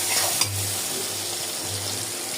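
Onion, tomato and green chili frying in a pan for a bottle gourd and fish chorchori, a steady close sizzle with faint stirring scrapes throughout, no voices.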